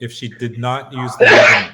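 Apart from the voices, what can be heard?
sneeze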